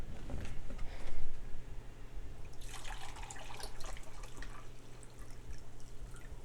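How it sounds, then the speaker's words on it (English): Pickling vinegar poured into a pot for pressure-canned dill pickles: a close, steady liquid pour with splashing and dripping, swelling early then continuing in uneven trickles, no talk. "So now I'm going to add 3 cups of pickling vinegar."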